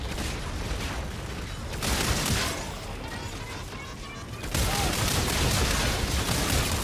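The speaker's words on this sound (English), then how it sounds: "This shotgun kicks ass!" Shotgun blasts and heavy gunfire in the sci-fi shooter Call of Duty: Infinite Warfare, loud and dense with sudden bursts and a crashing surge near the end, continuous over a busy battle din.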